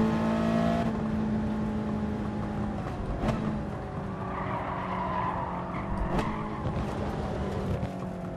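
Toyota 86 Gr.4 race car in GT Sport on Brands Hatch GP circuit, engine droning steadily with tire skidding squeals while slowing into the pit lane, loud and continuous with no talk.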